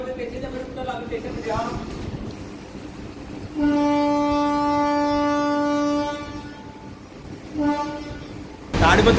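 The Tirumala Express pulls into Tadipatri railway station with rumbling wheels and a long, loud horn blast, followed later by a shorter toot. People talk nearby.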